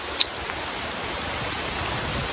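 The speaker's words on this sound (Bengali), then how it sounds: "অনেক জোরে বৃষ্টি হচ্ছে, এখন হচ্ছে বৈশাখ মাস আর কাল বৈশাখী ঝড় হচ্ছে, সাথে অনেক বৃষ্টিও হচ্ছে।" Heavy rain lashes down during a Kalbaishakhi storm by a pond-side mango tree, a constant loud patter with one sharp close tap near the start.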